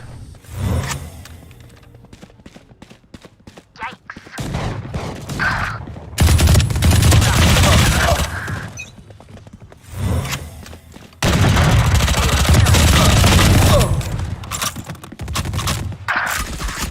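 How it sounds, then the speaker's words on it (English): Bursts of rapid automatic gunfire from the video game Valorant, loud and close, coming in long sustained volleys separated by quieter gaps with small clicks. "You can just keep shooting and shooting and shooting."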